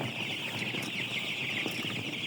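Chickens cluck softly at a poultry farm, heard as a steady, moderately distant murmur of fowl noise with faint higher calls and no talking.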